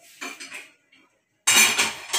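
Sugar and tea leaves going into tea brewing in a pot, heard as a short burst of metallic clinking and scraping, a brief pause, then a louder, denser clatter of spoon against pot.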